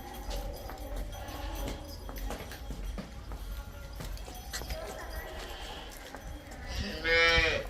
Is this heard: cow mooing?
yes